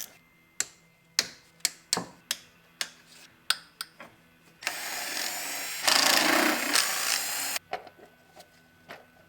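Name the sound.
loosening valve cover bolts on a V6 Mustang engine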